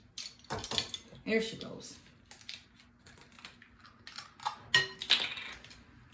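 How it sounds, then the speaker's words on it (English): Two eggs are cracked into a bowl in a home kitchen and beaten with a teaspoon of vanilla, giving irregular clinks and tapping of utensil against bowl, while someone speaks briefly nearby. "Caitlin is gonna crack 2 eggs in a bowl and beat that with 1 teaspoon of vanilla."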